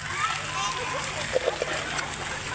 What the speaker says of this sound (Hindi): ये बना हुआ वाटर पडल और ये दे रहे हैं बच्चे बारिश के मज़े